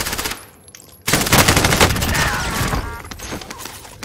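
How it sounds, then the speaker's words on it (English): Bursts of automatic gunfire from the Call of Duty Warzone video game, loud and close, with a quieter stretch and then a sustained dense volley of shots. "I'm getting shot from behind."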